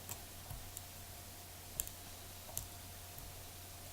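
Faint, sparse pin clicks from picking a Mul-T-Lock MT5+ euro profile lock, a few tiny isolated ticks over a quiet background hiss.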